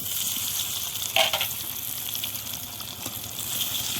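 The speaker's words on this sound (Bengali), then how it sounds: "এটাই আমি আলুটা ভাজবো" Boiled potatoes fry in a little oil, a moderate steady sizzle with a brief louder spatter and light stirring, close by and free of speech.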